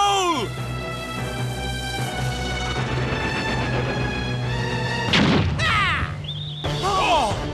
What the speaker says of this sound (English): Now, Ed, light the cannon!